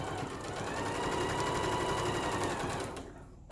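A sewing machine stitches a patchwork pot holder in a fast, steady mechanical rattle that runs continuously at close range, then stops and leaves near silence.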